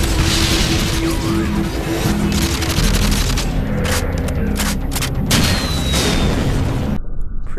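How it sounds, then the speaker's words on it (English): Explosive blasts and booming impacts in Modern Warfare 3, including a rocket launcher strike, sustained and loud amid continuous battle noise before cutting off abruptly near the end. "this guy's shooting a rocket launcher at him and it doesn't kill him"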